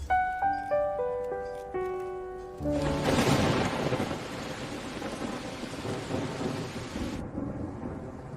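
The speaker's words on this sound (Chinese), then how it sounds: "怎么下雨了？" A thunderstorm with heavy rain: a dense, steady rushing downpour with low rumbling bursts in and sets in abruptly after a stretch of soft melodic music, then drops away near the end, leaving the music faintly behind.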